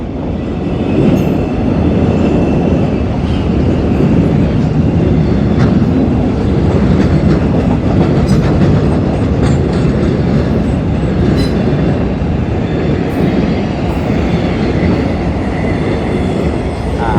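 A train of rail cars rolls steadily past a level crossing, its loud, continuous rumble and rhythmic wheel clatter close by and unbroken throughout, with a faint squeal of wheels and no voices.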